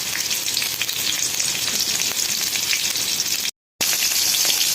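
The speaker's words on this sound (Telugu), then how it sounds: "ఇవి ఒక టూ మినిట్స్ ఫ్రై చేసుకున్న తర్వాత మళ్ళీ వెనక్కి తిప్పుకొని టమాటాలు తిప్పుకొని మళ్ళీ బాయిల్ చేసుకోవాలి ఫ్రై చేసుకోవాలి" Tomatoes frying in a pan give off a loud, steady broadband sizzle that goes on without pause, with one short gap of silence near the end and no voices.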